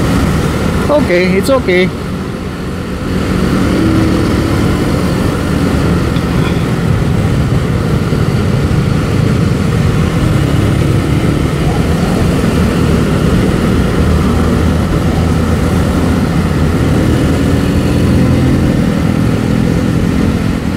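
A Benelli Motobi 152 motorcycle engine drones loud and close while riding and overtaking in traffic, with a steady throbbing roar and wind rush throughout and brief talk near the start.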